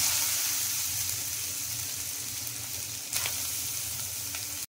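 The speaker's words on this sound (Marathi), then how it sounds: "हा जो किसलेला गाजर आहे तो मस्त तुपात फ्राय करून घेऊया" Grated carrot sizzles in hot ghee for carrot halwa, a dense, even frying crackle close by with a brief stirring scrape midway, stopping abruptly at the end.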